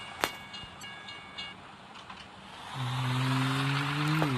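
A long train rumbles past in a coach bus simulator game, a steady mechanical roar with a low droning tone that builds and holds near the end, with a brief click early on.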